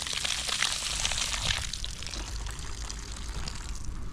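Water running steadily from a centralised supply tap in a house yard, a continuous close splashing hiss with no pauses, slightly quieter toward the end.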